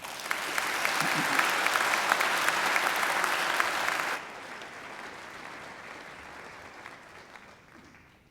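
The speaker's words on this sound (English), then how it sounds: "I think he deserves another great round of applause." A graduation ceremony audience gives a round of applause, steady dense clapping for about four seconds that drops away, leaving a softer lingering patter and room noise.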